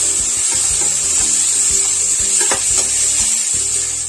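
Onion frying in hot oil in a pan, a loud, continuous close sizzle with scattered crackles and light stirring knocks, heard alone without talk.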